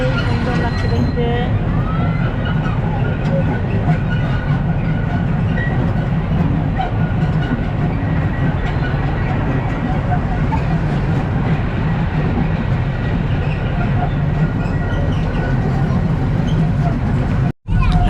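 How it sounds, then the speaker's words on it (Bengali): A park ride train at Kaldighi Park runs continuously, with a loud, steady rolling rumble and rattle heard from on board, while people talk throughout. "ফার্স্ট টাইম কালদিঘি পার্কে ট্রেনে চললাম"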